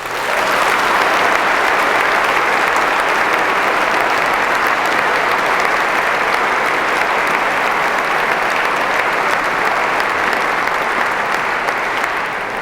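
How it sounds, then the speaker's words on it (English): Loud, dense applause from a university audience for debaters at a debate on God's existence, a steady, unbroken roar of many hands clapping throughout. "I think we owe them a round of applause for that."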